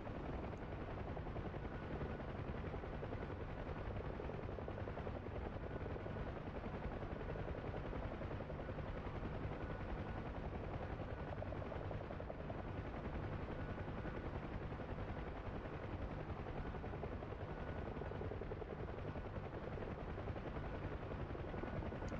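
Huey helicopter in the DCS flight simulator game, flying over the Persian Gulf on a supply run: a steady, dense rotor and engine drone holds evenly throughout with no pauses, fairly quiet overall.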